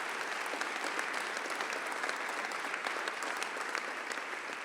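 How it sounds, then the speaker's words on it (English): Continuous crowd applause at a town hall on anti-Semitism and violence, an even, unbroken wash of clapping heard from a distance at low volume. "they deserve a very big round of applause for protecting our community"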